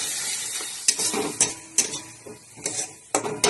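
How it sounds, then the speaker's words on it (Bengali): Onion paste frying in a pan for mango masala chicken, a steady sizzle broken by several sharp scraping stirs of a spoon against the pan, close and fairly loud, with no voices. "দেখুন পেঁয়াজ বাটাটা আমি দিয়ে দিলাম।"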